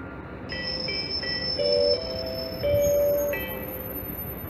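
A passenger train arrives at Rakovník station, rolling in with a steady high metallic squeal of wheels and brakes, tones rising and falling against a background rumble, fairly close.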